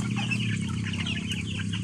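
Chickens cluck busily and continuously, several birds close by making a soft, overlapping chatter.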